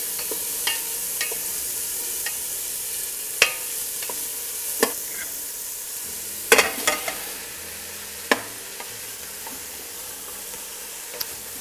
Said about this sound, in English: And once they've sweated a few minutes, I add the chorizo.